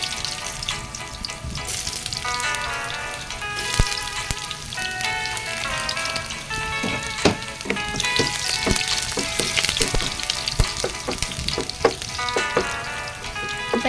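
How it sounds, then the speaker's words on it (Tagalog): Garlic sautéing in a pan makes a loud, dense, continuous crackling sizzle with scattered sharp pops and occasional utensil clicks, heard up close throughout. "At igisa na natin guys ang ating bawang."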